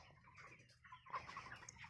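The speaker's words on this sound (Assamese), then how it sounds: "আজি মুৰ্গীৰ বয়স হৈছে 29 দিন। তো অলপ নাকৰ সাউন্ড আছে মুৰ্গীৰ।" Twenty-nine-day-old chickens in a poultry shed give soft, close clucks and a few small calls over a low background hum, fairly faint overall.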